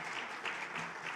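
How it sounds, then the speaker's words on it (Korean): Congregation applause at a Sunday church service, a brief, faint, even patter of clapping from the gathered crowd. "우리 다시 한번 감사와 격려의 박수 부탁드립니다"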